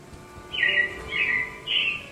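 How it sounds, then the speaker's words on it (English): Robins chirping in a theme park setting at Walt Disney World's Magic Kingdom, three distinct bright chirps in a regular rhythm, clear and moderately near over a low background hum. "it looks like the Robins are getting ready to celebrate Valentine's Day today"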